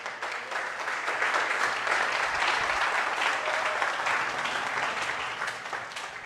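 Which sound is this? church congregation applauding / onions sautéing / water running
church congregation applauding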